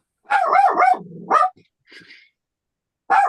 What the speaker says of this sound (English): so Ian, I don't know whether you can put the dog out